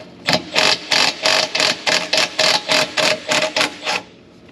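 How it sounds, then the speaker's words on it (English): A bolt is backed off on a bushing press during a rear differential bushing job on an Infiniti G37, heard as about a dozen evenly spaced, loud, close mechanical bursts in a fast steady rhythm, with no talk. "Let's back off the bolt again."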